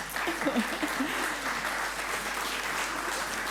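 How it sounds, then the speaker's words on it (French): Audience applause at a decarbonisation summit, a steady wash of clapping with a voice briefly heard over it near the start. "Voilà, on peut applaudir"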